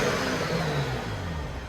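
A turbocharged 2013 BMW 335i engine runs with a loud, sustained mid-range rev, the steady rasp holding briefly before easing slightly.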